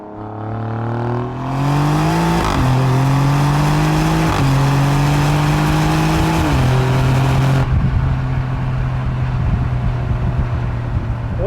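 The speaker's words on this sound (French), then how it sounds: "Cette voiture monte dans les tours avec une facilité, on sent que les deux turbos sont là et qu'ils poussent" The twin-turbo V6 of an Alfa Romeo Giulia Quadrifoglio revs hard and loud, climbing in pitch through several stepped surges before dropping back to a steady throaty drone, with no talking.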